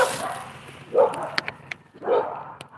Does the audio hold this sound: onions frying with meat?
no